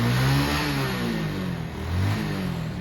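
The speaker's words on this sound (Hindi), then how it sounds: "स्टार्ट हो रही है गाड़ी, स्टार्ट हो रही है।" A Hero Glamour motorcycle converted from fuel injection to a carburetor revs hard, its loud mid-pitched engine rising and falling in repeated throttle blips close by, with no talking.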